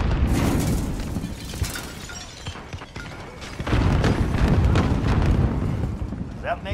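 Loud blasts and crashing bursts of a grenade explosion in the Call of Duty multiplayer game, Hardcore Domination on the Crash map, with a heavy rumbling burst midway amid game noise and a voice talking.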